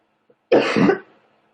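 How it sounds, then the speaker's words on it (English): A single sharp, close cough, a short harsh burst preceded by a tiny click, then silence. "I don't know why I'm coughing like this."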